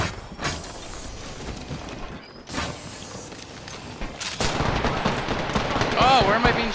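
Gunfire in an Apex Legends match near a bunker, with loud bursts of shots, then sustained rapid machine-gun fire growing heavier toward the end, with voices around it.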